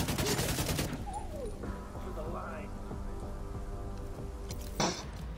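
Gunfire in a run-and-shoot video game: a rapid burst of automatic fire opens, then quieter scattered shots and game effects under a steady background, with one more sharp burst near the end.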